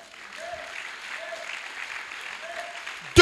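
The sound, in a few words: congregation applauding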